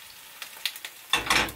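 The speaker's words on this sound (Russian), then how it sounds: "И из-за этого масло вот так вот прыгает на сковороде, шипит." Oil spits and crackles in a frying pan while potato pancakes cook, sharp scattered pops at first, then a louder, denser sizzle close by.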